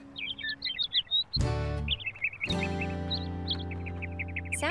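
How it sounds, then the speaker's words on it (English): Cartoon birds chirp and tweet in quick bright bursts from a children's animated episode, with a sudden musical swell and soft thuds in the middle before the chirping returns over a sustained tone. "Sounds like the birds are having a party up there."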